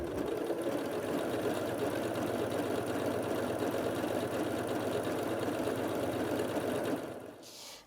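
A Janome Atelier 9 sewing machine runs a triple straight stitch with dual feed, giving a steady, rapid mechanical whir and clatter up close that stops abruptly near the end.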